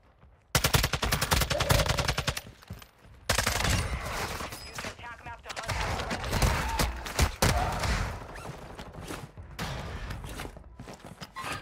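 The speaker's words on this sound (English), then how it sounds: "Yo, can you shoot your gun?" FSS Hurricane gunfire in Warzone 2, loud rapid automatic bursts repeating across the stretch with short pauses, with occasional footsteps and thuds, and voices talking over the action.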